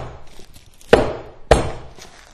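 A whole garlic head wrapped in cloth is smashed twice in the kitchen, two sharp, heavy thumps about half a second apart, loud and close with brief rattling decay.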